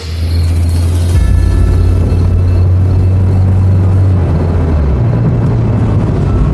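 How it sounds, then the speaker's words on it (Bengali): A black sedan car approaching, a loud, steady low engine rumble that swells in and holds for several seconds, heard alone without any voices. "আচমকা একটা গাড়ির শব্দ"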